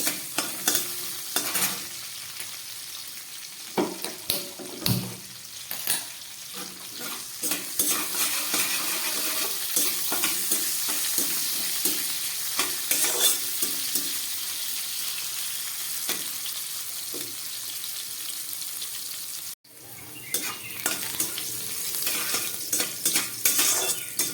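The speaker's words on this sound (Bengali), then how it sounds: "উচ্ছেগুলো ভাজা হয়ে যাচ্ছে" Bitter gourd fries in oil with a continuous bright sizzle, broken by frequent spatula scrapes and clinks against the pan, close and loud throughout, with one brief dropout near the end.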